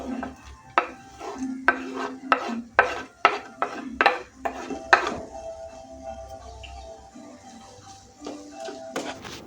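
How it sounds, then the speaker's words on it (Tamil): Chopped onions go into hot oil in a pan, with a run of sharp, regular clinks and scrapes from a utensil stirring against the metal. A faint sizzle sits beneath the strokes, which grow quieter and sparser toward the end. "ஒரு பேன் ஹீட் ஆனதுக்கு பிறகு வந்து அதில் ஆயில் சேர்த்துட்டு வெட்டி வச்ச வெங்காயத்தை சேர்த்துக்கொள்ளணும்"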